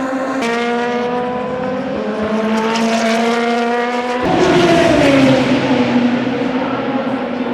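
Super Formula race cars at Fuji Speedway, loud high-revving engine whines layered together, holding steady pitches before a sharper, louder car sweeps past.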